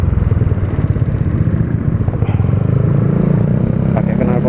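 Yamaha NMAX scooter fitted with a racing exhaust runs loud and close, a steady throbbing mid-pitched engine drone with some mechanical clatter and no talk.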